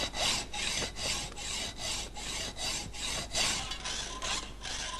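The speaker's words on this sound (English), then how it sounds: "The correct sawing rate is 50 to 60 strokes" Steady back-and-forth rasping of a hacksaw biting metal held in a vise, about a dozen even strokes in a regular rhythm, close and fairly loud.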